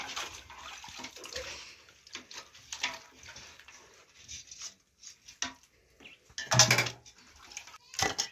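Washing something by hand in water in an African village kitchen, with soft sloshing and rubbing through most of the clip and a few louder splashes near the end.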